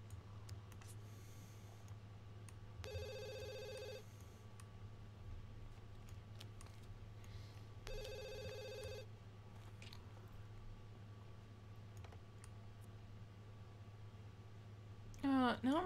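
A telephone rings in The Sims 2, two separate bursts of bright electronic trilling a few seconds apart over a low steady hum, with a chirpy flourish near the end.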